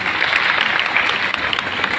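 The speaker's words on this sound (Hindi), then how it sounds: "तालियां हो उसके लिए" An audience at a class session breaks into applause, a thick, steady wash of many hands clapping at fairly close range with no break.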